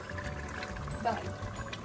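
Cooked dal (lentils) is poured into a pot, giving a brief soft sloshing pour amid quiet kitchen background noise.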